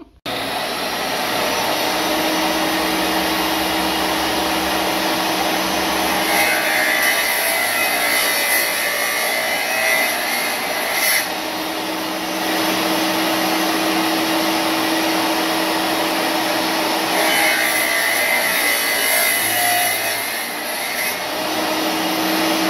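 A saw cuts through a black shale core segment, producing a loud, steady grinding whine that runs continuously for over twenty seconds, with the pitch rising and falling slightly as the blade works through the rock.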